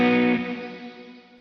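Electric guitar played through an Astronomer reverb pedal, one struck chord ringing out with a lush shimmering reverb tail that swells and slowly decays over a second or so, played alone.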